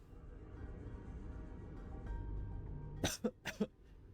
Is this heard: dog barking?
no